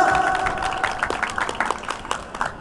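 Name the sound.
audience applause for Klaus Sammer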